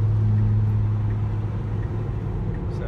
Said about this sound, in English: So pickup just passed me.